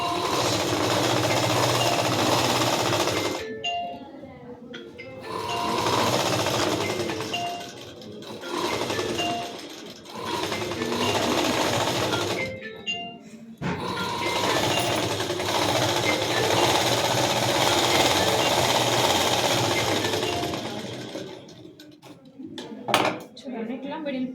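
A tailoring-class sewing machine stitches the front part of a blouse in several long, rattling runs broken by short pauses, with faint talk in the background.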